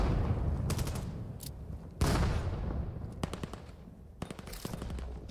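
Rapid bursts of Vector SMG fire in the VR shooter VAIL, several short volleys crackling over a steady background din, fairly loud and close.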